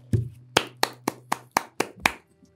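Eight sharp hand claps in a steady rhythm, close and dry, with a low hum running under the first few, like a thin applause effect rather than a crowd.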